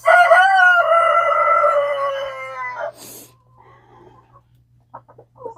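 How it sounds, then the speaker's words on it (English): A young rooster named Clyde crows once, loud and close, a drawn-out call lasting about three seconds, followed by faint clucks and rustling from the coop. "Clyde's a young rooster over there, and he's just kind of acting out and crowing and everything else."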